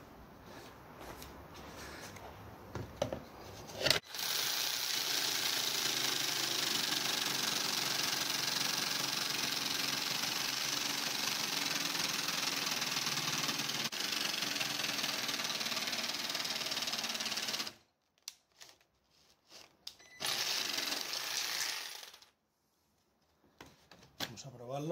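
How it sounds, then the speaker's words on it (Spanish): A jigsaw cuts a mount for a Garmin Striker 5 GPS transducer on a three-metre inflatable boat, running loud and steady for about fourteen seconds, then stopping before a second short burst. "Vamos a hacer este recorte con la caladora."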